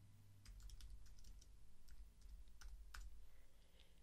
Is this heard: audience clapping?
no